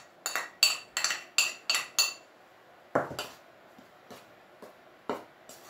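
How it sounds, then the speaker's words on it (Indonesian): A spoon stirs pepper, coriander, turmeric, garlic and salt into flour in a bowl, making a quick run of bright metallic clinks against the bowl, then slower scattered taps that thin out and fade. "Dan kita aduk dulu."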